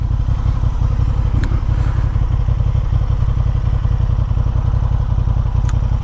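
A 2023 Honda Hornet CB750 motorcycle idles with a steady, rapid, throbbing engine pulse, close and loud throughout, with a couple of faint clicks over the top.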